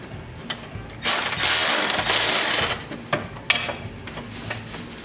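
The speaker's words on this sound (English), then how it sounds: "So we got to get underneath there with a wrench to hold the back side of it." A wrench ratchets on a nut while a Toro CCR 3650 snowblower is repaired: a quick series of close, sharp metallic clicks in a loud burst that fades into scattered taps and knocks.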